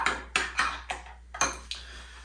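Spoons stirring and clinking against a dish of tartar sauce, seven sharp, close metallic taps in an uneven rhythm.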